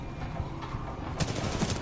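Enemy gunfire in the video game Titanfall 2 crackles in a short rapid burst, a quick string of muffled shots growing sharper near the end.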